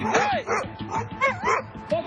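Several dogs from a large backyard pack bark and yip in quick, overlapping bursts, loud and close, with whimpering cries mixed in.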